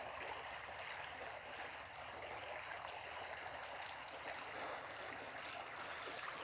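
A sandy creek meanders near an old sawmill site in the woods, a steady broadband rush and trickle of flowing water, faint and continuous with no talk.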